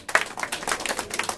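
An audience at a rap battle claps in a quick burst of sharp, overlapping hand claps that stays close and steady for just over a second, with no voices over it.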